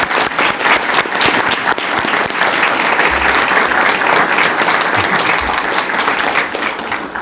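Sustained, dense applause from an audience at a school board meeting, welcoming a new inaugural middle school principal; steady, loud clapping throughout with no talking.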